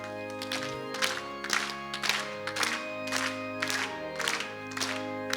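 A church congregation at a Wednesday night evangelism seminar service claps in a steady rhythm along to a hymn, the beat sitting under sustained singing and organ or keyboard accompaniment.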